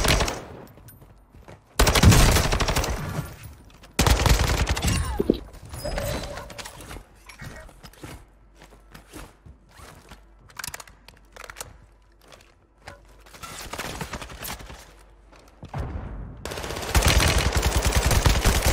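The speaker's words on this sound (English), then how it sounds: "who's shooting me from behind?" Loud rapid bursts of automatic gunfire in Call of Duty Warzone on the Vondel map, several separate volleys with quieter stretches of footsteps and movement between them.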